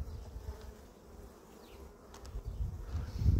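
Bees buzzing around a small beehive at an apiary in spring, a steady low drone from many insects, close by, with a louder swell toward the end and no talking.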